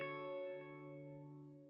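A single sustained guitar chord rings out and slowly decays through a Line 6 Helix reverb effect, its tone smoothed and lingering with a reverb tail.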